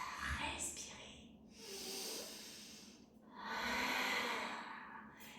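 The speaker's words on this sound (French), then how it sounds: "Et l'inspire et l'expire dans le yoga, il se fait comme ça." During a Hatha yoga class, two long, breathy hissing exhales alternate with quieter inhales in a slow, deliberate rhythm, close and moderately loud, demonstrating inhale-and-exhale breathing.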